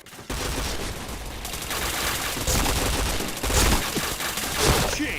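Rapid gunfire from the online shooter game Point Blank, a dense continuous fusillade of automatic shots with louder bursts recurring every second or so, close and loud throughout.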